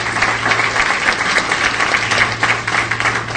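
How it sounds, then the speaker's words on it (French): Steady, full applause from a ceremony audience clapping for their teachers and leaders, close and continuous throughout, with a low electrical hum underneath. "Je vous demande d'applaudir vos professeurs et vos responsables."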